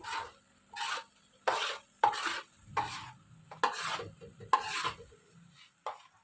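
Spices are stirred into dal mash in a pan, making a series of about seven rasping scrapes of a spoon against the pan in a slow, uneven rhythm, close and distinct, with quiet gaps between them.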